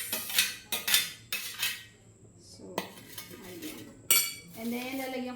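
Nacho toppings of corn, cucumber, onion and tomato are tossed in a bowl with utensils, giving bursts of scraping and clinking metal against the dish, close and intermittent, with a brief faint voice.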